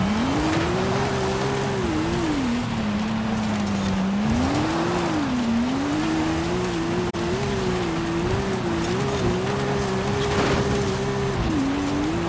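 Subaru Brat car driving in Forza Horizon 5, its engine note holding a steady, continuous drone that rises and falls with throttle changes through corners, loud and constant throughout with no talking.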